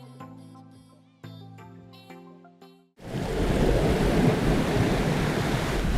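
Sea waves wash and roar against the shore beside a seaside promenade in St. Paul's Bay, Malta, a loud, steady surf that starts abruptly after a few seconds of tonal music.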